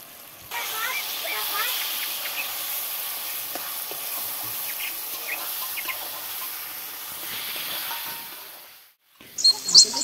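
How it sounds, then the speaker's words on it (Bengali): Chopped capsicum, tomato and turmeric powder frying in oil in a kadai for a meat curry, a steady close hissing sizzle that runs for several seconds, briefly drops out, then returns with a few sharp clatters. "ক্যাপসিকাম কুচি দিয়ে দিলাম। হলুদ গুঁড়োটা অ্যাড করে দিলাম।"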